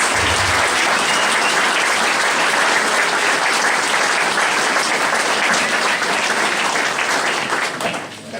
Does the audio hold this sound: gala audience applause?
yes